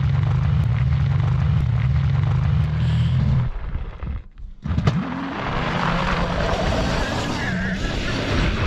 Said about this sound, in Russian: включаю мотор.